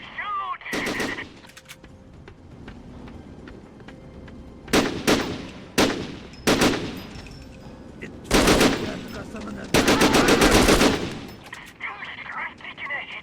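Bursts of machine gun fire ring out in the PS2 video game Syphon Filter: The Omega Strain, coming in loud, rapid clusters of varying length with brief gaps between them and voices speaking in between.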